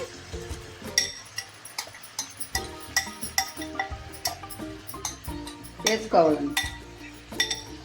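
Bottle gourd pieces are stirred into biryani in a cooking pot, giving repeated sharp clinks and scrapes of a spoon against metal, with a busier burst of clattering near the end.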